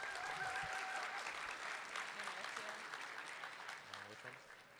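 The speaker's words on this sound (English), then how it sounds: "Can we get another round of applause for them," An audience at a state student forum and awards event gives a round of applause, a dense patter of clapping that gradually fades, with faint voices underneath.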